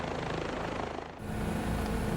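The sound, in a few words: Bell 407 helicopter in Microsoft Flight Simulator 2024 video game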